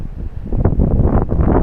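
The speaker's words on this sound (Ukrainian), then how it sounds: "Отака погода, бачите. Вітер, гони чорні хмари, мабуть, буде дощ." Gusty wind over a vegetable garden buffets the microphone with a low, rumbling roar that swells and rises partway through, with no voices.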